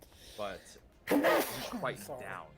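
A single sharp sneeze bursts out amid a tabletop roleplaying game session, heard close and clear between stretches of speech.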